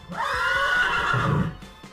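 A horse gives one loud, close whinny that rises and wavers for over a second, then trails off into quiet.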